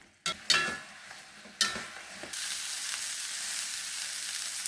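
Tempeh sizzles steadily in a hot pan while a utensil scrapes and stirs it in a few sharp strokes, then the frying settles into a constant hiss.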